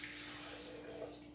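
Almond milk poured into a blender for a blueberry smoothie, a steady, close liquid stream splashing for about a second and a half with no talk.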